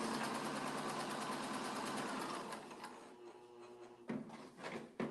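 A sewing machine stitches a quarter-inch seam along a flying star quilt block, running steadily loud for over two seconds, then slowing into softer, intermittent bursts with brief pauses near the end.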